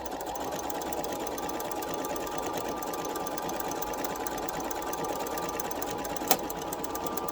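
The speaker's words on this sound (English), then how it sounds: "you're just going to continue to sew until you get all the way down to the end" A sewing machine runs steadily while stitching fabric for a headband, a continuous close whirring hum that holds even throughout, with one brief sharp tick near the end.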